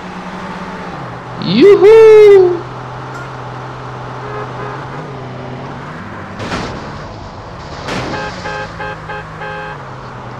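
A car in GTA San Andreas on a freeway during a street race in Los Santos, its engine humming steadily throughout with a rising rev, a brief loud whoop of voice near the start and a couple of sharp clunks later on.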